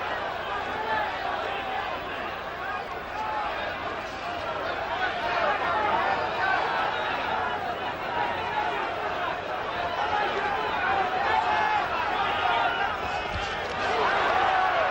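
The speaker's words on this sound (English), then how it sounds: "Crowd is really into this fight." A boxing arena crowd at the 1983 Marvin Hagler versus Roberto Duran fight keeps up a steady, loud roar and babble throughout, with the noise swelling slightly toward the end.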